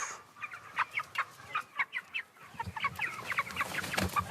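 Naked-neck chickens, a hardy rustic breed with featherless necks, cluck in a rhythmic series of close, moderately loud calls, growing busier and overlapping toward the end over a low farmyard rumble.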